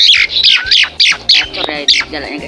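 A caged bird at home gives a rapid series of loud, harsh squawks, about eight bursts in quick succession, close by, with someone talking briefly over them.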